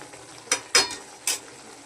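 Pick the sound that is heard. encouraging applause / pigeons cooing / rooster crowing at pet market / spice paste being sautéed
spice paste being sautéed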